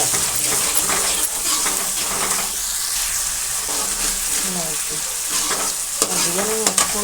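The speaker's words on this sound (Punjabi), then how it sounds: "ਹੁਣ ਮੈਂ ਮਸਾਲਾ ਜਿਹੜਾ ਹੀ ਰਿਹਾ ਸਾਰਾ ਕੁਝ ਪਾ ਕੇ ਇਹਨੂੰ ਦੁਬਾਰਾ ਫੇਰ ਭੁੰਨਣਾ ਹੈ" Spice masala for rajma roasting in a pan makes a loud, steady sizzle up close, with scraping stirs and a few metallic clinks of a spoon against the pan toward the end.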